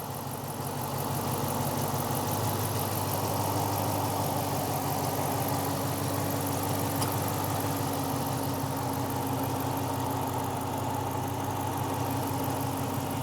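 A Dodge Challenger R/T Shaker's 5.7-liter Hemi V8 idles steadily and smoothly at close range, a continuous low rumble with no ticks or rattles, alone without talk for the whole stretch.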